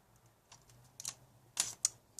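A razor blade snips a stretched plastic sprue off a needle, giving a few faint, sharp clicks spaced apart over a quiet background.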